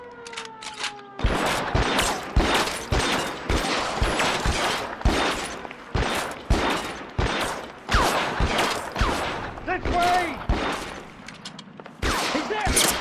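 Rapid bursts of gunfire from the video game L.A. Noire, loud and close, with shots cracking in quick irregular volleys across the whole stretch and only brief gaps between them.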